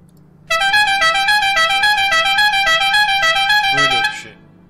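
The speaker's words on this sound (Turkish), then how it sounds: "Korna." A car horn in the multiplayer driving game MTA:SA sounds close and loud, with a rapid, warbling custom melody of repeated tones for about three and a half seconds before cutting off abruptly.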